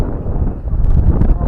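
Strong wind buffets the microphone outdoors at a resort, a loud, rough rumble with gusty surges and no letup, and a voice is briefly heard under the noise.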